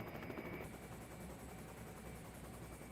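A helicopter at a military airbase drones steadily at a distance, its rotor a faint, even chop blending into a continuous mechanical hum.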